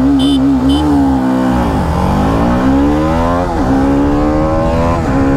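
Kawasaki Ninja 300 and BMW G310RR motorcycles racing hard, engines loud and close, pitch climbing through gears with dips at each shift and rising again in a steady revving wail.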